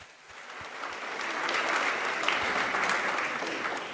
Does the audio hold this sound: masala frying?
no